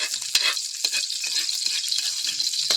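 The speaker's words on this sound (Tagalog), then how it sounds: "pag nag-golden brown na, lagyan natin ng ating sibuyas." Onions sizzle in hot oil for traditional chicken adobo, a bright, steady crackle up close. Scattered soft knocks of a utensil against the pan come through now and then, and nobody speaks.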